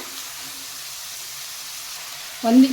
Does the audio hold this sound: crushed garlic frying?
yes